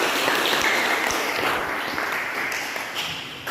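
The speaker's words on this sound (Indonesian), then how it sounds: "beri tepuk tangan untuk kelompok yang sudah maju ke presentasi." Classroom students applaud a group that has just presented, a steady dense patter of many hands clapping at close range that slowly tapers off.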